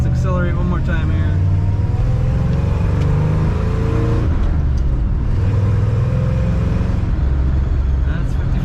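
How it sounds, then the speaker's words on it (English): A 1957 Chevrolet Bel Air 2-door hardtop with a four-speed floor shifter accelerating, its engine a loud, continuous low rumble that rises and shifts in pitch, heard from inside the car while someone talks. "Let's accelerate one more time here."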